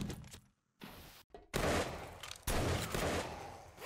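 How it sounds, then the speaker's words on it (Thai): Bursts of gunfire in the zombie survival game 7 Days to Die break in after a brief near-silence, then roll on as dense, loud, rapid shots in two sustained volleys. "ฮ้ยมีคนยิงช่วยแล้วอ่ะ"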